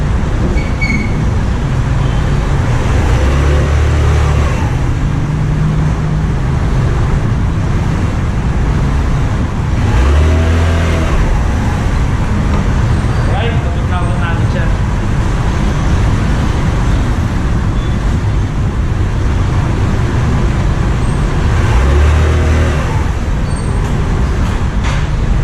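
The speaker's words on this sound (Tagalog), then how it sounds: "Ayan yung tunog ng makina niya." Microbike EXO150 motorcycle engine idling steadily nearby, with a few brief throttle blips swelling over the constant low rumble.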